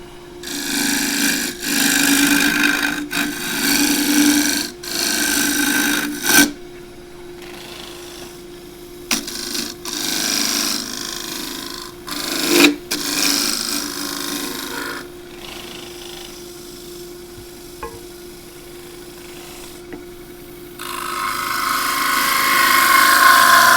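A 35mm bowl scraper works a pistachio wood bowl spinning on a lathe. Rough scraping bursts come in uneven strokes and pauses over a steady motor hum, close and fairly loud, with a harsher hiss near the end.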